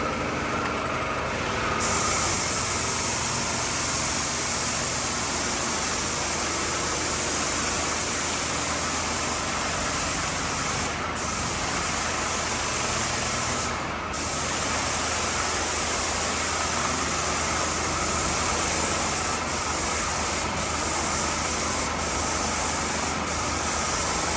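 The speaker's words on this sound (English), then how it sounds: "That's the paint machine running." A paint spraying machine runs steadily outdoors in Spain, giving a continuous loud hiss and mechanical drone with a low hum underneath, broken by a few brief bursts of spray, with no talk over it.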